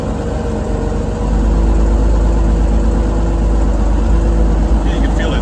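A 1975 White 2-150 truck engine, back in running condition after 19 years unused, gets a few short revs over a steady close idle, with the engine note thickening as the throttle opens.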